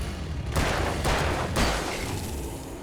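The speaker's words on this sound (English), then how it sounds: "Let's give him some hunting rifle" Hunting rifle gunfire in the Alan Wake video game: a few loud, sharp blasts at irregular intervals, each with a short echoing tail, over a steady rumbling backdrop of game sound.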